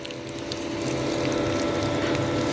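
A small variable speed drive water pump runs under load supplying showers, a steady close mechanical whir with a faint ticking texture that grows slightly louder partway through.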